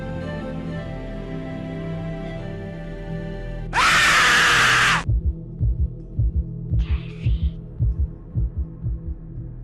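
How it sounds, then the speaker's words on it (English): A loud burst of screaming noise cuts off, followed by a steady thumping heartbeat sound effect from a commercial, paired double beats repeating evenly over a low hum. "the product with a heartbeat sound effect"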